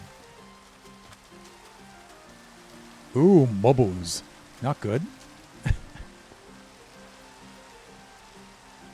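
Steady rain in the Minecraft video game, a soft continuous hiss running through the whole stretch, with someone talking briefly over it in the middle.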